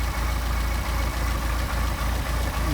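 A Mercedes 190SL engine with Solex carburetors idles at about 700 rpm, a steady low rumble with a regular pulsing beat, close and continuous with no speech.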